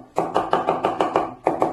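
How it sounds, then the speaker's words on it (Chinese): A kitchen knife chops garlic into mince on a cutting board, about nine quick, evenly spaced close chops, with a brief pause before the last two. "剁点蒜蓉"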